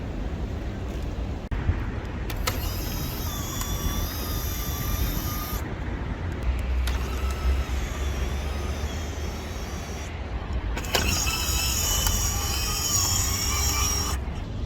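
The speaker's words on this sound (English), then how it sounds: "my registration plate slide out from underneath the bumper." A motorised retractable registration plate sliding out from under a car bumper gives a thin, high motor whine in two separate runs of a few seconds each over a low background hum.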